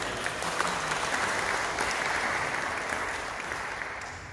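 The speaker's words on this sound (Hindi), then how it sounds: "तो मैं चाहता हूँ कि सबसे पहले आप सुहेल भाई और उनकी तमाम यूके इस्लामिक मिशन की टीम के लिए तालियां बजाएं।" Audience at a poetry recital in Tooting, London, giving steady applause, a dense even wash of clapping that holds at moderate loudness and tapers slightly toward the end.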